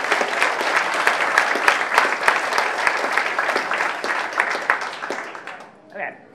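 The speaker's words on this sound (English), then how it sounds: "So let's just start with a round of applause for everybody who presented." An audience at a coding program's demo day applauds the presenting teams, with dense clapping and sharp individual claps that fade out near the end.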